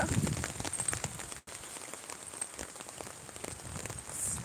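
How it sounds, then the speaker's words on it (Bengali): Heavy storm rain pours steadily in a dense, even hiss with wind, broken by one brief dropout, and no voice is heard over it. "কি বাতাস কি বৃষ্টি"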